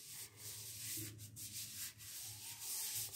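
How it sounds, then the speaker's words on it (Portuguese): Hands are rubbed together while being washed, scrubbing the backs, nails and thumbs in a soft, close, repeated friction swish with brief pauses between strokes. "Esfregar de novo os dorsos, as unhas, o polegar."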